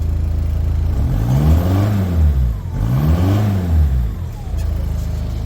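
A Talbot Express van converted to a 2.0 HDi diesel engine, running nearby and loud, with two rising-and-falling rev sweeps over a steady low diesel chug and a brief dip between them.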